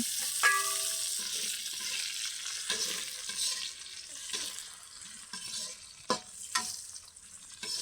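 Onions fry in hot oil with cardamom, cloves, cinnamon and bay leaves for a chicken and chickpea dal dish, with a steady soft sizzle broken by intermittent scraping and stirring knocks from a spoon in the pan.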